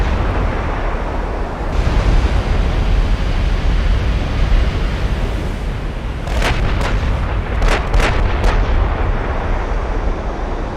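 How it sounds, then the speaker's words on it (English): Warship guns firing in a naval combat game: a heavy continuous rumble of distant booms, then a rapid cluster of sharp, loud shots near the end, with no speech. "I think it's pretty much all guns firing"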